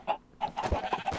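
Farm-game chickens cluck and squawk in several quick, close bursts, with a short quiet gap before the clucking picks up again.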